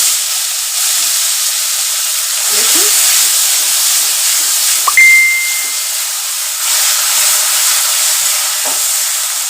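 Onion paste hitting hot oil in a pan, giving a loud, steady sizzle and hiss that holds throughout, with small clinks and a brief tone partway through.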